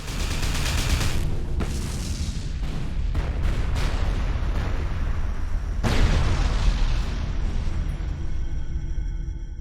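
Spaceship explosions in the video game Everspace boom, roll and crackle one after another over a dense rumbling wash of noise, loud and continuous, with several sharp blasts punctuating it.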